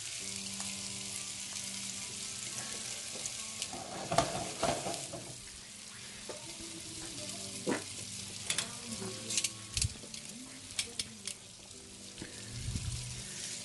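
Chicken tenders fry in a pan, a steady sizzle running throughout with occasional louder clicks and scrapes from tongs against the pan.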